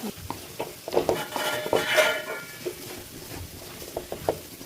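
A utensil scrapes and clinks against a pan while coconut is stirred into curry, with irregular rhythmic taps and scrapes close by over a soft background.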